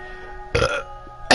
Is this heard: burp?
yes